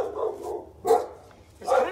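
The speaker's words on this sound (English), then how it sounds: "She does feel the vibrations of that barking just in the air." A blind, deaf dog barks in short bursts, two or three sharp woofs spaced apart, close by with low background rumble between them.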